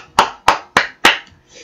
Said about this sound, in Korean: 박수 한 번씩.